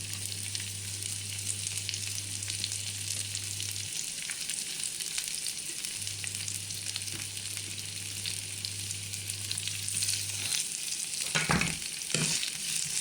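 Chopped onion frying in a pan for sweet and sour chicken, a steady close hiss and crackle that runs throughout, with a few louder scraping stirs near the end.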